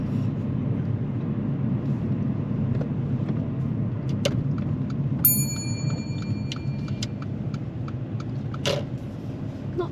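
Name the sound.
car pulling in and parking on the left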